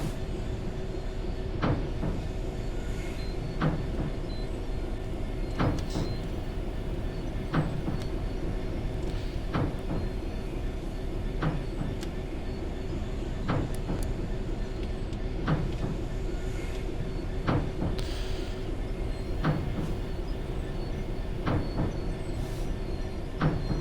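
A freight train in a simulator rolls on with a constant mechanical rumble and drone, overlaid by regularly spaced clicking wheel beats on the rails.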